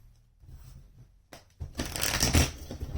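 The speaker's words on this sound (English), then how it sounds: "Let's do one more shuffle." Tarot cards riffled and shuffled by hand, a quiet pause followed by a dense, papery burst of shuffling that swells and stays close and fairly loud to the end, with no talking.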